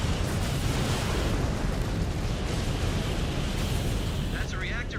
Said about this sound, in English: That's a reactor breach.